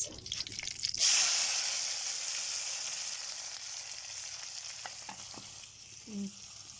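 Onions drop into hot oil already holding bay leaves, bursting into a loud sizzle that settles into a steady frying hiss, broken by a few faint clicks and scrapes of stirring, with no one speaking.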